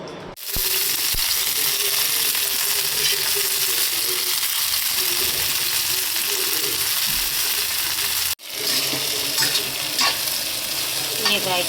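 Okra and chillies frying in a pan, a loud steady sizzle with stirring scrapes and clinks, briefly cut once and then resuming.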